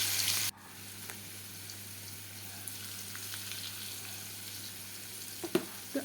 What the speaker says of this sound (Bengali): আমি আলুটাকে ভেজে নিচ্ছি বেশ লালচে লালচে করে ভেজে নেবো সামান্য নুন আর হলুদ দিয়ে